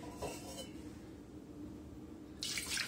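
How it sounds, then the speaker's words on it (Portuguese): Water splashes into a small bowl in a kitchen beside a Brastemp induction cooktop, faint and brief with light clinks of dishware and a louder rush of water at the end. "Deixa eu pegar um potinho com água."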